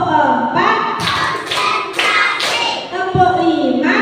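Group hand clapping during a classroom ice-breaking counting game: several sharp bursts of claps at roughly half-second intervals, close and loud, with a teacher's voice calling out between and around them.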